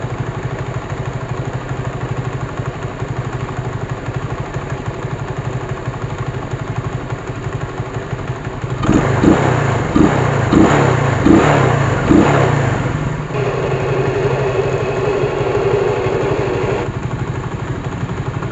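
A noisy motorcycle engine with an unidentified fault idles with a rough, uneven rumble, then is revved several times in quick bursts before settling back to idle.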